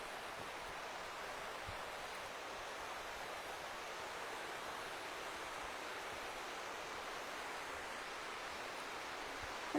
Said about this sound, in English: It's like the song of the river.